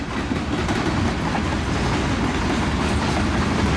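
A freight train with tanker cars rumbles past close by, a steady loud roar of rolling wheels with rhythmic clacking over the rails, no voices.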